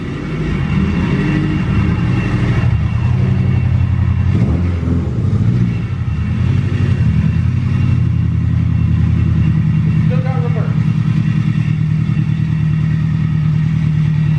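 Home-built Subaru engine running on a dyno, a loud, dense mechanical roar with clattering that holds steady and swells, close and continuous throughout.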